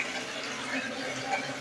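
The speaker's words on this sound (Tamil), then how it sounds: "ஹாட் வாட்டர் பாயிட்டு தண்ணி வந்துட்டு இருக்குது." Hot water runs steadily from a repaired concealed pipe line, a continuous close hiss and splash of flowing water with no pauses.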